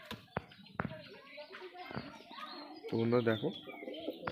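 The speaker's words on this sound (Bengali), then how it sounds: "পায়রাগুলো ভয় খেয়ে আছে।" Pigeons coo in low, throaty bursts near a loft, with a fuller burst toward the end, while someone talks over them.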